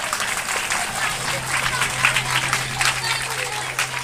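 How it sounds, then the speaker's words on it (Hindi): Audience clapping for children at a school Teej festival at a government model high school, a dense steady patter filling the space alongside a low steady hum, with some voices mixed in. "बच्चों के लिए एक बार तालियां हो जाएंगे।"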